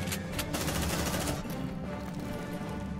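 Rapid gunfire in the sci-fi video game Aliens: Dark Descent, several sharp bursts in quick succession at first, then trailing into a lower rumble of continued shooting, with no voices.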